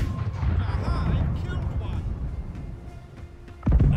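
Ship cannons boom in a Blackwake naval battle, a dense rumbling barrage of low blasts running throughout with a heavier close burst near the end, players talking over the fire.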